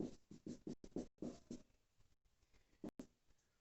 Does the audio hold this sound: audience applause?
no